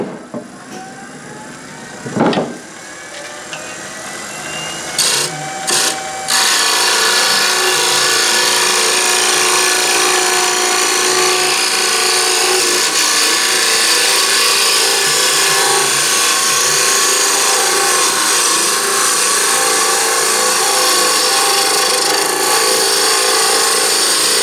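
A wood lathe spinning a closed-form turning while a gouge rides the bevel and cuts, a loud, continuous whirring and scraping hum that starts after a few brief knocks and holds steady.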